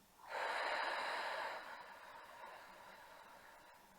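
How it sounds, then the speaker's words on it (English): A single slow, deep breath drawn in and let out during a calm yoga relaxation, loud and close as it begins, then easing into a long, quieter exhale that trails off. "take a deep breath in and a deep breath out"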